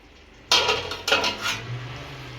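A lid is lifted off a pot of simmering pomfret fish curry (chanduva chepala pulusu) cooking on the stove. Two sharp metallic clanks come close together, followed by a soft, steady hiss from the pot.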